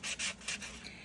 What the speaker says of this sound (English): I'm gonna take this sanding block.